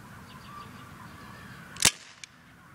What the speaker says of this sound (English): I just shot the can.